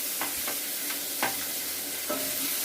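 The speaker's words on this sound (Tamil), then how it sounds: "ஆட் பண்ணிவிட்டு நல்லா வதக்கி விடுங்க." Chopped onion sautéed in a pan for a turkey berry kootu sizzles steadily and close up, with several soft scraping stirs of a spoon over the constant frying hiss.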